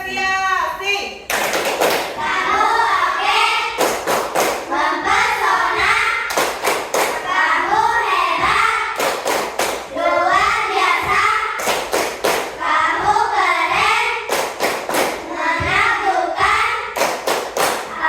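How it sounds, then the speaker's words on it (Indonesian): A classroom of children claps and taps in rhythmic bursts of applause for the winning group, loud and close, with a teacher and kids talking between rounds. "Ya, tepuk tangan."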